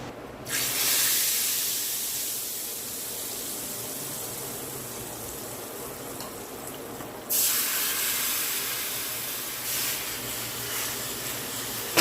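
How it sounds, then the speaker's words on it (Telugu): Hot tempering poured into Telangana-style raw onion pachi pulusu. A loud hiss bursts up, settles into a steady sizzle for several seconds, then flares again as more goes in. No one speaks. "ఇప్పుడు దించి స్టవ్ ఆఫ్ చేసి పచ్చి పులుసులో తాలింపు వేసుకోవాలి"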